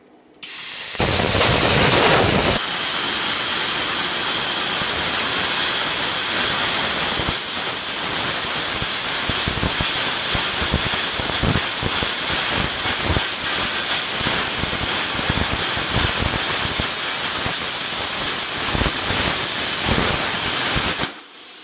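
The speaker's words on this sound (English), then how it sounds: "we're going to try to cut some 1/4-inch plate steel" Quarter-inch plate steel being cut, heard as a loud, continuous harsh hiss that starts abruptly and roars steadily for about twenty seconds, with crackling texture throughout before cutting off.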